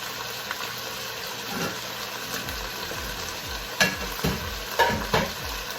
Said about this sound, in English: Now I'm gonna add in my pork to get some color.